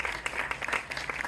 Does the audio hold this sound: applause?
yes